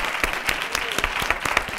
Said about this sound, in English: definitely deserve an applause for making all of this happen